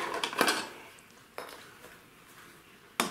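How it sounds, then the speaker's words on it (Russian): Clattering of a small toy pot and utensils in a toy kitchen: a quick cluster of clinks, then two sharp isolated knocks, close by and fairly quiet. "Рома, давай ты сваришь сосиску в кастрюле"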